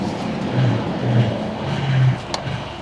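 A high-mileage Pontiac Grand Am GT drives along with a steady low engine drone and a few brief hum swells as it shifts through gears, sounding moderately close with no talking.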